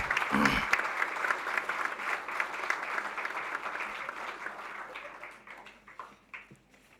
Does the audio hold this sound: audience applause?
yes